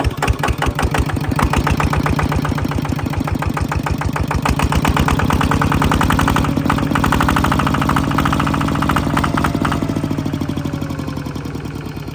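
A Kubota-style RT110 DI single-cylinder diesel engine on a steel frame idles close by, with a loud, steady, rapid chugging beat that holds through the whole stretch and eases slightly near the end.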